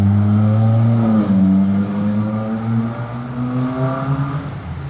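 A Jaguar E-Type rumbles past on a Monaco street, its loud, deep engine note shifting in pitch as it nears and then pulls away, with no voices over it.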